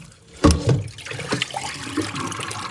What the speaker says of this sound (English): I'm going to rinse it out again real quick.